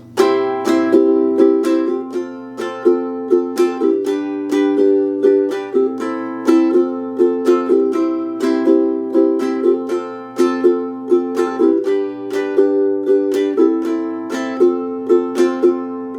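Ukulele chords strummed in a steady rhythmic pattern, playing the intro of a song, bright and close, each strum ringing briefly before the next, without any voices.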